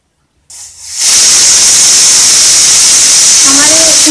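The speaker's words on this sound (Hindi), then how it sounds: "हमारे कुकर में 1 सीटी आ गई है" A pressure cooker on a gas stove cooking kidney beans lets off its whistle, a sudden loud rushing hiss of steam that starts after a brief quiet and holds steady, with a rising tonal whistle near the end.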